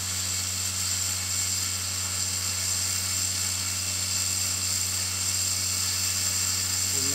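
A 24V brushed DC motor salvaged from a forklift spins steadily at about 5000 RPM, giving a continuous, even whine with a low hum, loud and close, with no talk.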